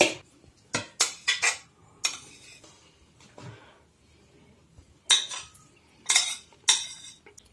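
Kitchen utensils clink and scrape against a large pot as chopped egg, potato, sausage, cucumber and greens for okroshka are mixed, a series of sharp metallic knocks in bursts with quiet gaps, close and fairly loud, no talking.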